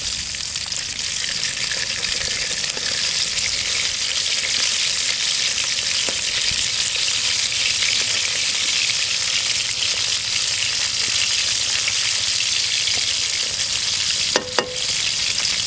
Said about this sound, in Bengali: খুব সাবধানে আস্তে আস্তে বোয়াল মাছগুলো ভেজে নিলাম